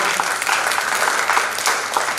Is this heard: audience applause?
yes